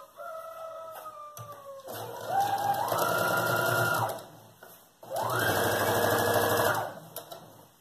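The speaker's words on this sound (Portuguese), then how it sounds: "vou passar uma costurinha aqui com pé de máquina do lado avesso." A sewing machine stitching fabric for a child's backpack, two sustained whirring runs with a short pause between them, close and loud, preceded by brief whining tones as the motor starts.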